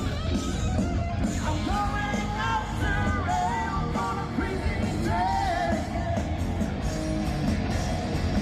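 A crowd yells loudly and continuously at a Hornbill Festival concert, with raised voices and whoops blending into a dense, roaring din throughout.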